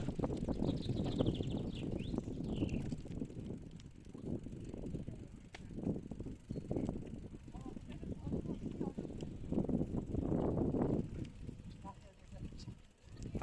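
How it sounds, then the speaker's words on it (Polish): Strong wind buffets the microphone at a ferry landing in a steady, loud low rumble that gusts throughout. "I jest wiatr."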